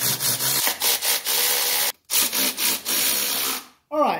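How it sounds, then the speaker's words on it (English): A ratchet or wrench spins 13 millimeter nuts back onto a valve cover of a 1985 wagon, giving repeated short raspy bursts with brief pauses, loud and close. "we just need to reinstall our 13 millimeter nuts"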